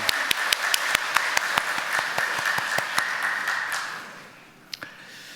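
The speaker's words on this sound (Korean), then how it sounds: "하나님께 영광 박수 올려드리겠습니다." A congregation claps during a Sunday church service, starting with a few sharp, evenly spaced claps that swell into steady group applause, then fade out, with a couple of stray claps near the end.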